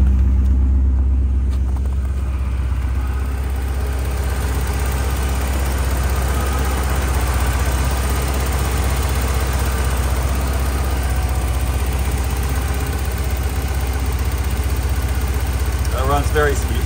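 A 1981 Porsche 928 with five-speed manual gearbox idles steadily, a smooth low engine rumble held at an even level from start to finish, with faint background noise.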